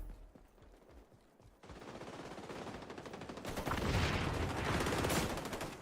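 Gunfire in the shooter game XDefiant: sparse shots at first, then a rapid automatic stream that swells louder and denser with close, continuous bursts.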